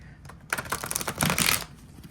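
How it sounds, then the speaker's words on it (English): A deck of tarot cards being shuffled up close, giving a burst of rapid riffling clicks that lasts about a second and then stops. "I'm just going to give you just a little bit of shuffling"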